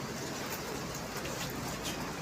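Steady rain falls outside, a dense even hiss with no breaks and no voices.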